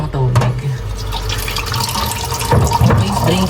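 Tap water runs while a blender is rinsed in a kitchen sink, a close, splashing, continuous gush with shifting tone and some clattering, with a voice speaking over it.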